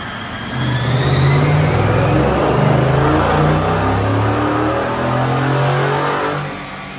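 A 2022 Ford F-150 engine revs hard on a dyno in fifth gear, a loud, steady climbing drone toward the rev limiter that holds for several seconds and then drops away near the end.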